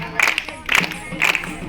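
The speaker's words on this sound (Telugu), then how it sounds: "ఈ సప్పట్లు ఎట్లా వినిపిస్తున్నాయి నీకు మావా" Women clap in time to a Christian song at a Telugu gathering, giving a steady rhythmic patter of hand claps with sung voices mixed in.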